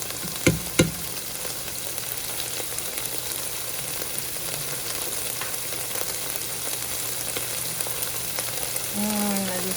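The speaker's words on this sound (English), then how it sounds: "I'm going to go ahead and saute them up" Aromatics sautéing in a pot for lentil and potato soup, a steady soft sizzle running throughout with a couple of sharp knocks near the start, moderately quiet and with no talking.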